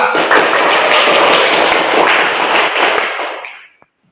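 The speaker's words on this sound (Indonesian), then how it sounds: "dikasih aplaus untuk kelompok 2" A classroom group applauds a student presentation during an Islamic religious education lesson, producing a brief burst of dense clapping that holds steady for about three seconds and then quickly dies away into silence.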